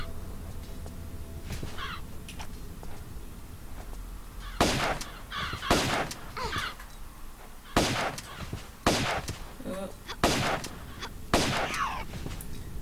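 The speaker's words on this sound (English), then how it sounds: "now there's 2 eagles that I want to spawn, so I'm just going to coax them out" Two eagles spawn in a Tomb Raider custom level, giving sharp, loud screeching cries and impact-like bursts that repeat roughly every second over a quiet game ambience.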